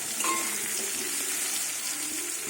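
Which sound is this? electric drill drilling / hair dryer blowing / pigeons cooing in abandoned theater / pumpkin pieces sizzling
pumpkin pieces sizzling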